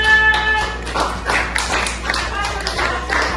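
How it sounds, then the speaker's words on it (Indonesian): Classroom applause for a student volunteering from a discussion group, scattered hand claps and taps running steadily through the moment at moderate loudness, with some voices mixed in. "Oke, tepuk tangan buat Fauzan."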